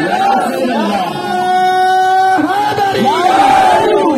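A large crowd at a religious procession for Eid Milad-un-Nabi shouts a slogan reply together, loud overlapping voices rising and falling in unison, close and energetic, following a lead voice.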